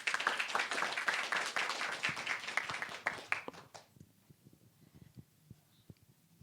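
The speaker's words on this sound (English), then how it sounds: "So please give a round of applause to Dr." An audience applauds to welcome a speaker at a talk, dense clapping for about four seconds before fading to a few scattered claps and quiet room noise.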